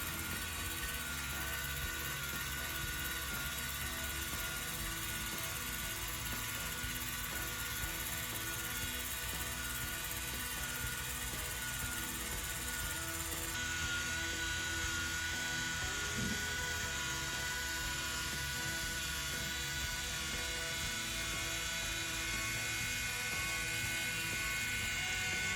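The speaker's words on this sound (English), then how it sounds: "the propellers are turning in opposite direction" Propellers of a Hot Toys The Bat 1/12 deluxe figure spin in opposite directions, giving a steady, even mechanical whir with a high buzzing edge that holds unbroken and close throughout, with no voices.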